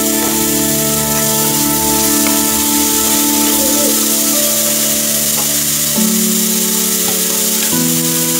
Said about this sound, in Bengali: এবার আমি মোচা সেদ্ধটা দিয়ে দিই